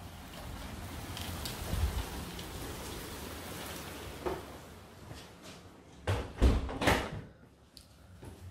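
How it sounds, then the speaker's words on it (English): Rain falling in a yard with a storage shed, a steady soft hiss throughout, with a few louder knocks and rustles near the end. "it just started raining actually"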